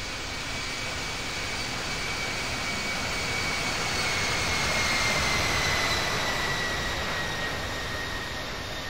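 Simulated Boeing 787 Dreamliner jet engines roar steadily through a takeoff in the Infinite Flight game, a loud continuous broadband rush with a faint high whine that swells slightly midway and holds.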